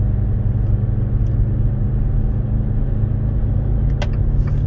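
A car drives along Route 1, a major shop-lined highway in Pompano Beach, Florida, with a steady low road rumble and engine hum throughout, close and continuous, no voices.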